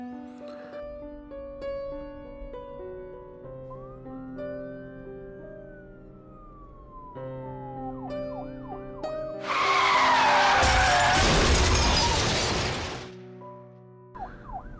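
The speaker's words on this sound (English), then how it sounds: "I just heard the sirens of another police car pulling up to the house." Layered tones hold and slide in pitch, then a loud burst of harsh noise like skidding or impact erupts before a wailing police car siren sweep returns.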